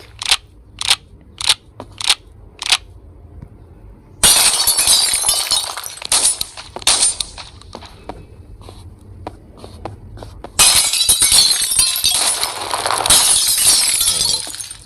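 Glass windows shatter in a building destruction video game: a quick run of crisp impacts, then two long, loud bursts of crashing, tinkling glass debris.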